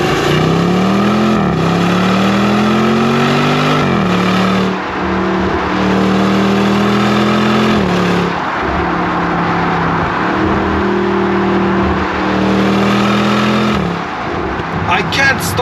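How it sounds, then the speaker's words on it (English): A 2021 Land Rover Defender 90 with a supercharged V8 accelerates hard from inside the cabin, its engine rising in pitch through several gears with brief drops at each shift, loud and close throughout. "I can't stop smiling when I floor the throttle and hear that engine scream."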